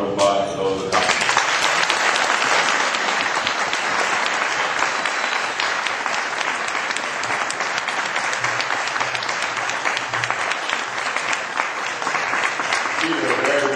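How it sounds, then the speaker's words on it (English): Warm applause from a Rotary club audience honouring Paul Harris Fellow donors, dense steady clapping that starts abruptly and holds loud and even throughout, with a few voices mixed in near the end. "I'd like for you to give a warm round of applause to those that helped"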